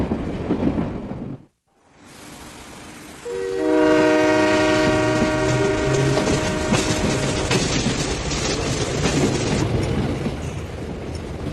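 A train departing Basel Badischer station in an animated scene: after a brief silent gap, a loud sustained horn blares over steady rolling rail rumble that carries on to the end.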